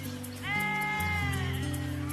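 Goats bleat in long, wavering, nasal calls over a low droning music bed, one clear bleat rising and holding for about a second, with others faint around it.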